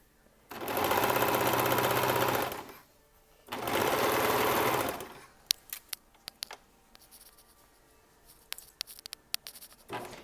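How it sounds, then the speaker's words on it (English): Sewing machine stitching a garment seam in two loud sustained runs, each about two seconds long, followed by quiet handling clicks and taps. "it's really hard to talk and sew"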